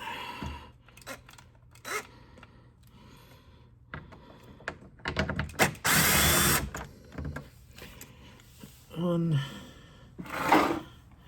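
A power tool with a 10 mm socket backs out access panel screws on a 2025 Toyota Camry, giving short, loud whirring bursts between stretches of someone talking.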